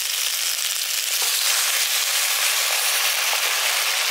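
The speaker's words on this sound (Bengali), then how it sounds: "এবার এর মধ্যে আমি জল দিয়ে দিচ্ছি।" Water poured into ground spices in a pan for a village-style potato and drumstick curry sets off a loud, steady hiss and sizzle, close and continuous throughout.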